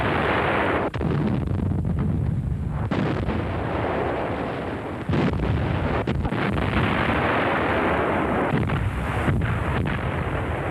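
German WWII heavy artillery guns firing in action during Operation Barbarossa, with a series of heavy booms over a constant rumbling, noisy field background, no voices heard.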